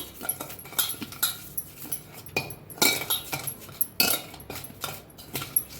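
A spoon works through chickpea pakora batter seasoned with cumin powder and salt, giving close, irregular wet squelches and light clinks against the bowl.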